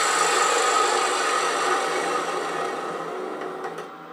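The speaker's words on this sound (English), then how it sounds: "We'll do that with the half inch spindle gouge." A wood lathe spins a piece of holly while a half-inch spindle gouge skims the top surface, giving a steady, continuous scraping whir that tapers off slightly toward the end. Nobody talks.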